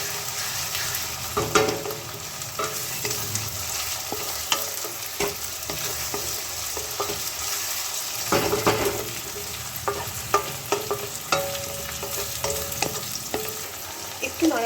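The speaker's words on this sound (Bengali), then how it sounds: "টমেটোগুলো দিয়ে ভালো করে মিক্স করে নিতে হবে" Tomatoes being stirred into a frying Bengali prawn curry masala in a pan, with steady sizzling and repeated scraping strokes of the spoon close up, no voices.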